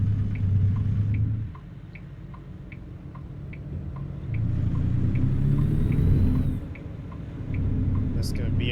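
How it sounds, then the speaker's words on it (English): Car passing on a road in American Truck Simulator, a swelling and fading engine rumble heard from a truck idling with steady ticking indicators, the sound rising midway then receding. "We'll wait for this car to go by."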